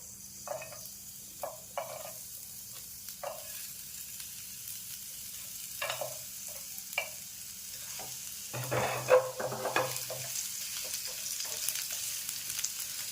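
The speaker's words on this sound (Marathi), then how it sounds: "आता पॅनमध्ये आपण अर्धा चमचा तेल टाकलं आहे त्यातच आपण घेतलेला कांदा टाकून घ्यायचा आहे उभा चिरलेला आणि तो लालसर असा परतून घ्यायचा आहे" Sliced onion fries in a little oil in a pan, a soft continuous sizzle broken by intermittent spatula scrapes and taps against the pan, growing busier toward the end, with no voices.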